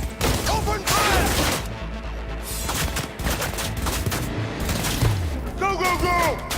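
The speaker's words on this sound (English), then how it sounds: "Open fire!" Rapid bursts of gunfire in the video game Cyberpunk 2077, a loud sustained fusillade with crashing impacts, mixed with game music and voices talking over the shooting.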